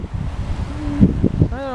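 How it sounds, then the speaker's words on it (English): Strong wind buffets the microphone outdoors on a street, a rough low rumbling roar under a voice. "Wow, that was freaking windy, sorry."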